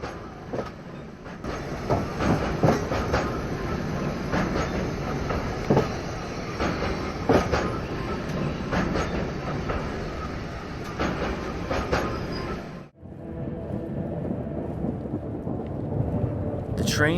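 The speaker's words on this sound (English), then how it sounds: "The train dropped me off in Vano" Train rumbling along rails with rattling wagons, a loud continuous roar that cuts out abruptly near the end, leaving quieter ambient noise.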